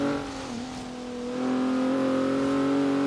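A car engine drives in the video game Forza Horizon 3, a steady tonal hum that dips briefly, then climbs and holds louder as it revs, close and alone without talking.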